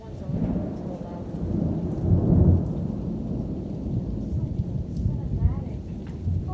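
Low, rolling thunder and constant rain fill a stormy scene, with a louder peak of rumbling midway and people talking faintly in the background.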